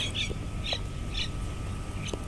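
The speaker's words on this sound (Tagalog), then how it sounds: "Nag-iingay pa yung ibon" A bird calls out in a short series of bright chirps repeated every half second or so, faint against a steady low rumble and hum.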